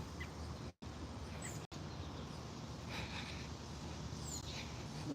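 Faint bird calls chirp sporadically over a steady outdoor hiss, distant and quiet, with no one talking.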